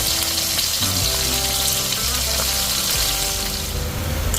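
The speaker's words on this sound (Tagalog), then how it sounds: "Unti-untiin natin iprito." Fish frying in hot oil, freshly caught: a loud, steady sizzle and crackle fills the whole stretch, with a low hum underneath and no talking.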